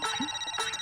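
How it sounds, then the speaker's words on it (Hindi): A mobile phone ringtone plays in a home during a Hindi family sitcom scene, a short bright electronic melody heard up close without any talking, cut off after under a second. "फोन बज रहा है आपका।"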